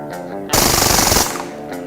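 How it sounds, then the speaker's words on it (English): A Beretta 92-style air pistol fires on full automatic, a loud, rapid burst of shots lasting under a second, close and alone without speech. "It's an automatic pistol."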